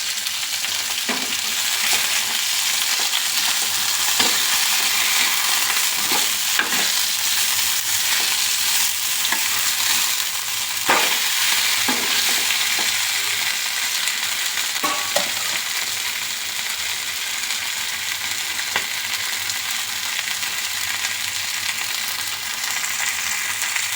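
Bangude mackerel fries in a pan with a loud, continuous close sizzle, crackling steadily for the whole stretch with occasional sharper pops and faint clicks of handling.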